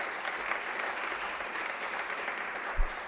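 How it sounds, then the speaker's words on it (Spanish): Audience applause at a panel event for the launch of a financial inclusion and literacy index, a steady wash of clapping that fills the whole stretch at an even level, with a brief louder bump near the end. "Le brindamos un aplauso también."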